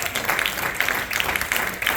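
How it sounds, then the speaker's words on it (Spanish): A congregation in a church at a water baptism service claps in a brief, fairly even burst with a slightly rhythmic pulse, heard from within the room. "Dale un fuerte aplauso al rey."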